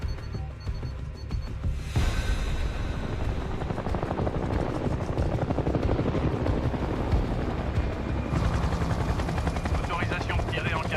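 A military helicopter sets down at a landing zone in the video game Conflict, its rotor thumping loud and continuous with a heavy low chop, joined by bursts of gunfire and radio-style chatter.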